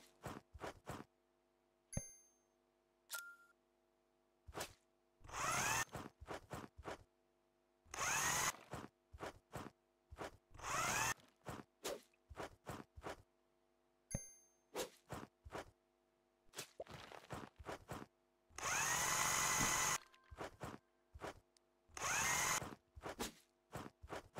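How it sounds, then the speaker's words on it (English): Electric screwdriver from the House Builder video game driving screws into a roof in repeated short bursts of whirring, with gaps and small clicks and dings between them, and no talking. "you can use the nail gun, or you can use what we've got now, the electric screwdriver"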